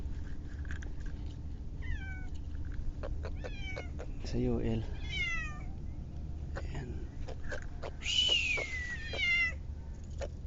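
A cat meows several times at a fishing spot, short rising and falling calls, one drawn-out cry near the end, over a low hum with a person speaking briefly.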